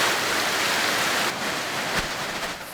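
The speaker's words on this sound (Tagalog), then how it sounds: "Habang naroon kami, bumuhos ang malakas na ulan." Heavy rain pours down steadily during flooding at a school ground, a dense, even hiss of falling water that stays loud and unbroken throughout, with no voices.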